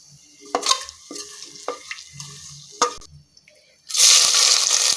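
Cinnamon, cloves, bay leaf and cardamom hit hot ghee and oil in a pressure cooker for mutton biryani, a few clinks and small crackles first, then a loud steady sizzle bursting up near the end.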